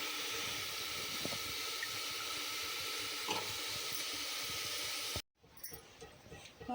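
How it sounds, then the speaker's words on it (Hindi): Vegetable curry sizzles in a pan with a faint, steady frying hiss and occasional small stirring clicks, then cuts off abruptly near the end into quieter room noise. "तो पहले मैं सब्ज़ी बना देती हूँ।"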